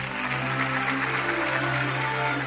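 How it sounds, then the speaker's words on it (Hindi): A studio audience claps steadily at a comedy show featuring a couple being questioned, a dense, even wash of applause filling the short moment without a break. "तालियों की ये गूंज"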